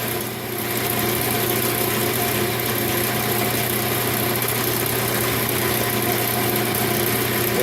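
Magic wand blank spinning on a wood lathe while a spindle gouge shapes a rounded lid, a steady loud motor drone with a constant hum and no pauses throughout.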